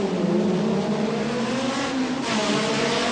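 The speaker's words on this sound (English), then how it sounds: "The rest of the field still going past the start-finishing line." Touring race cars of the 1987 World Touring Car Championship at Wellington, New Zealand, roaring past the start-finish line, a loud sustained engine drone that swells as another car comes through.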